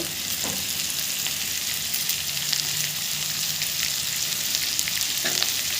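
Chopped green chilies fry in a pan with a steady crackling sizzle, joined by a few sharp clinks of a stirring utensil, close and fairly loud.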